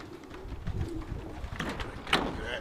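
Racing pigeons in a loft coo softly in low, rolling calls, with a few sharper chirps and rustles rising near the end, fairly close and quiet.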